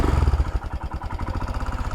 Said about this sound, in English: let's take it for a run. 2019 Royal Enfield Himalayan with a big bore kit.